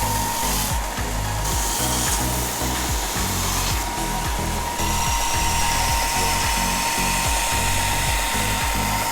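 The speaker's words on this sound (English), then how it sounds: "now we're going to sand them at the belt sander to smooth out the edges" A belt sander grinds steadily against wooden pieces for a Christmas decoration sled, a loud continuous abrasive whir with a rhythmic low thumping from the belt and no talking.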